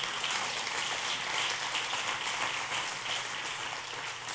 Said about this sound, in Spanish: Den un aplauso a Dios por eso